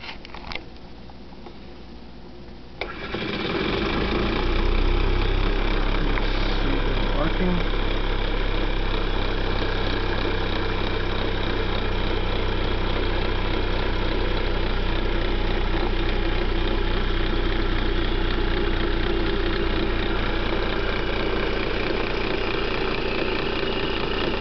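A homemade brushed DC motor with a fan, powered by a weakening lead-acid battery, spins up after a few seconds of quiet into a loud, steady whirring hum that continues unbroken to the end.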